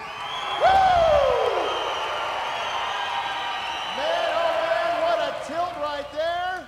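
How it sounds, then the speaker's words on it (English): A fight-night crowd cheers and applauds after a Front Street Fights bout, a broad, steady roar with scattered whoops that carries through the whole stretch while an announcer's voice talks over it. "Nice round of applause for these two warriors."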